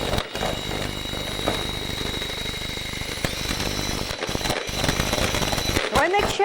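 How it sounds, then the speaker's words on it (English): Electric whisk beating a cake mixture in a kitchen, a steady continuous mechanical whir with a rattling texture running almost unbroken throughout, with a couple of brief pauses near the end. "it's much quicker to do this using an electric whisk"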